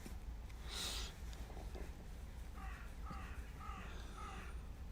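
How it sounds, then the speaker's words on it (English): A crow caws outdoors: one strong call first, then a run of about five shorter, fainter caws in an uneven rhythm, somewhat distant over a constant low background murmur, with no talking. "you don't like that crow, do you?"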